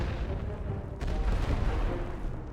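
An artillery barrage from a Great War Western Front video game, heard as a dense, sustained low rumble of distant guns with a stronger surge of booms about a second in, and no talk.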